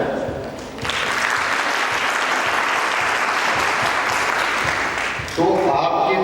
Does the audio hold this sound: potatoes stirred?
no